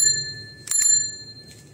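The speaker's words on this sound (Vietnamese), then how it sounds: "Chuông xoay nha." A rotating bell on a Bridgestone bicycle is rung twice in quick succession, a close, bright metallic ding-ding that leaves a ringing tone behind it, then a faint third touch.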